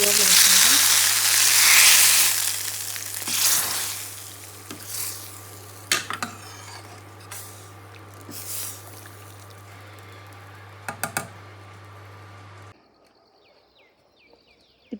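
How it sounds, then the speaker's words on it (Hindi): Steady frying sizzle of ghee and garlic tempering for dal, with hiss and crackle, a few sharp clinks of a utensil stirring, and a low electrical hum underneath before it abruptly cuts out. "अब हम लगा रहे हैं इसमें घी का तड़का, घी और लहसुन का।"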